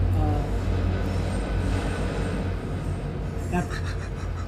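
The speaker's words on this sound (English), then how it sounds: "interrupted by the train. Those realistic sound effects again" Rumbling model train noise rolls steadily throughout, with a faint metallic squeal and a brief clatter near the end.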